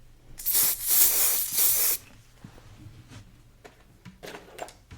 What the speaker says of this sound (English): Shake the hairspray, and then we're gonna spray the piece before we go in with this